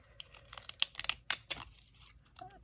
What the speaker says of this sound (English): I'm going to use these scissors. These are Fiskars decal edge scissors.